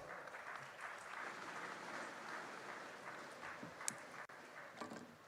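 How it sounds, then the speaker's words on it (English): A conference audience gives a round of applause, a continuous crowded patter of clapping at moderate distance, faint overall and steady across the moment, with a few sharper individual claps. "It's a better round of applause."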